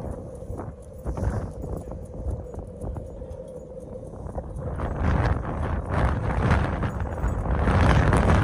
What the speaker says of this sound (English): since I'm in the open, you're gonna hear all the wind